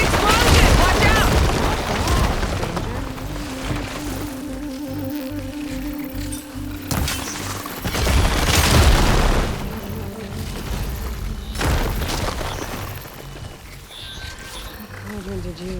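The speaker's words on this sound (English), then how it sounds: "Hey, big explosion! Watch out!" Explosions in the video game Horizon Forbidden West Burning Shores, deep booming blasts with heavy low rumble, the loudest at the start and again around the middle, mixed with roaring creature sounds and game effects.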